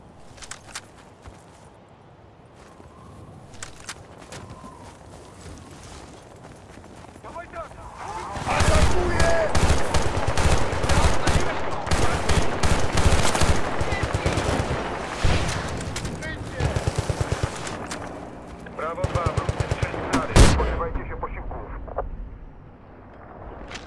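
Gunfire in the video game Battlefield: Bad Company 2, with quieter footsteps and movement giving way to loud sustained bursts of automatic fire and heavy shots, a sharp blast near the end, and voices talking at points.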